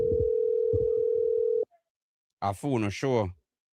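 A telephone dial tone hums steadily for about a second and a half while placing a call, then cuts off abruptly; after a brief silence a voice speaks.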